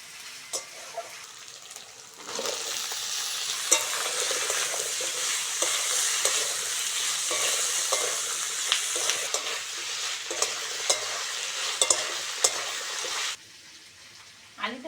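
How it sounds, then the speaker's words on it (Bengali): Potatoes fry with onion and green chilli in a pan, a steady close sizzle with scattered scraping stirs and light clinks, running for most of the stretch before cutting off to near quiet. "পেঁয়াজের সঙ্গে ভালো করে ভেজে নিয়েছি"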